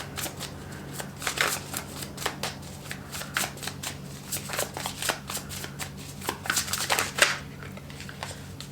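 Tarot cards shuffle in quick riffling bursts, close and fairly quiet, repeating steadily with soft flutters and taps between.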